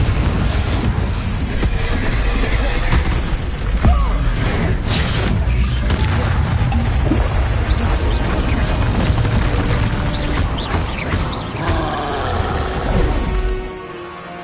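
In Hogwarts Legacy, the Confringo explosive spell goes off amid loud, dense combat noise with booming blasts and crashes, dying away at the end, while a character speaks during the fight.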